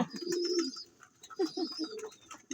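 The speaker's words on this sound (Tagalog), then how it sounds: "Ito nga palang gift bird sa atin ni Boss Alvin, no?" A racing pigeon gives soft, throaty coos in a few short bursts. It sounds close, and faint chirps from other birds come in between.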